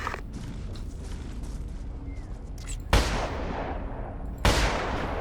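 Two sharp, booming gunshots in the video game Ghost Recon Advanced Warfighter 2 cut through a steady noisy background, spaced a second and a half apart, loud and close.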